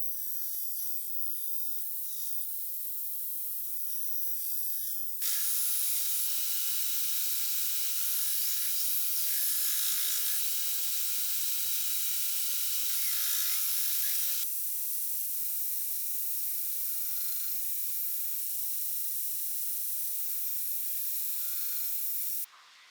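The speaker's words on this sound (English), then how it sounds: "it is time to go ahead and get our grinding done, grinding our bevels and all that fun stuff." A grinder cuts the bevels on a forged stainless-steel fillet knife. It makes a loud, continuous abrasive hiss that shifts in pitch and intensity as the blade is pressed and repositioned, with no talking.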